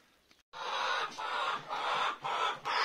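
Hens cluck close by in a series of short, repeated bursts after a brief quiet start, while nesting boxes are moved to their new coop.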